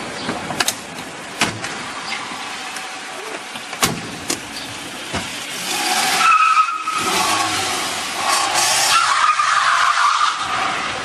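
A car pulls away with tires skidding and squealing near a pharmacy, the skid swelling into loud, sustained broadband noise partway through after a few sharp knocks and clatters.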